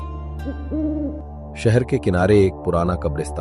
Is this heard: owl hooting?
yes